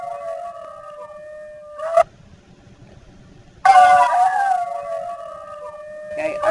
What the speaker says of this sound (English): I heard a wolf start out howling up high, and then they kind of ended up howling low.